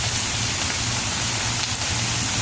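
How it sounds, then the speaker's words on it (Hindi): Season's first rain falling steadily outdoors, a continuous soft hiss with a low rumbling undertone, even and unbroken throughout with no voices. "ये हमारे मौसम की ये पहली बारिश हमारी तरफ हो रही है"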